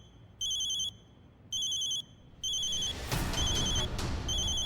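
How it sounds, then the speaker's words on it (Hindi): Mobile phone ringing with an incoming call, a bright electronic tone in repeated bursts with short gaps, over a faint indoor background that turns louder and busier toward the end. "मेरी माँ का फोन है।"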